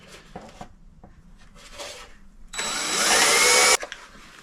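A power drill bores repeatedly into wood while building a BBQ food trailer, a loud sustained whine of about a second rising above quieter scraping and handling noises, then cutting off abruptly.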